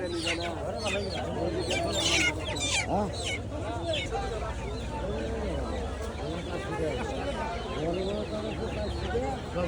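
Chickens cluck and squawk at the traditional Ghior duck and chicken market in Manikganj, with busy overlapping bird calls under steady crowd chatter.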